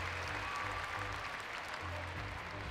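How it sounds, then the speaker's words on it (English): Crowd applause and cheering fill a bouldering World Cup semi-final arena in Munich as a climber finishes, a steady broad roar of clapping throughout with no talk. "he gets a good cheer and acknowledges the crowd with a fist pump"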